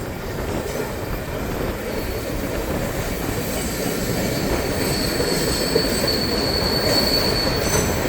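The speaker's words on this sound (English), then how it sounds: "we got a rock train." A rock-hauling freight train rolls steadily past a crossing, wheels squealing in sustained high-pitched tones over a continuous rumble of rail cars, loud and close throughout.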